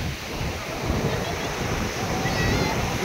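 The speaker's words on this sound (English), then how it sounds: "You guys can see huge breakers, giant breakers, dragging me into the ocean." Big ocean breakers roll and crash at Puri Beach, a dense, continuous roar of surf mixed with gusty wind noise on the microphone, loud and close.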